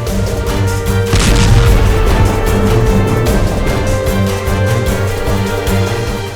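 A loud explosion from the Russia-Ukraine war bursts out with a deep rumbling boom that rolls on for several seconds, mixed with crackling debris and steady background hum.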